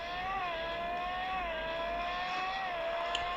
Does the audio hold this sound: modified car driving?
yes